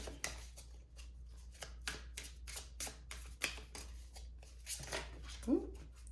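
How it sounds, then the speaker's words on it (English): Tarot cards are shuffled in a steady series of quick riffling and slapping bursts, close and moderately loud, with no one speaking. "So let's give this a really good shuffle."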